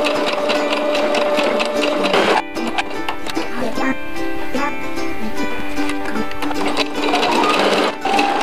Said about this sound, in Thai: เย็บด้านแรกกันก่อน